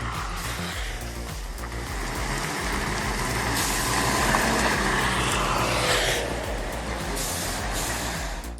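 A heavy timber truck labors loudly up a mountain slope, its engine a constant deep roar with rising strain and a hissing air-brake burst midway.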